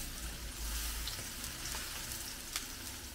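Garlic, ginger and giant prawns sizzle and fry steadily in a pan while being stirred, a continuous close crackle with small pops and scraping movements throughout.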